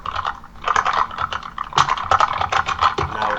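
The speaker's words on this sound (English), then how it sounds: "Now it's typing. Loud typing." Loud typing on a computer keyboard, a rapid, uneven run of close, crisp key clacks that continues throughout with no talking.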